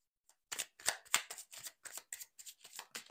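A deck of tarot cards is shuffled close up in a sequence of about ten crisp riffling bursts with short gaps between them, quiet and alone before a card is drawn.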